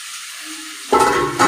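Sambar spices and chilli powder sizzle and hiss in a hot pan, a soft steady frying that swells suddenly louder about halfway through, close up and without talk.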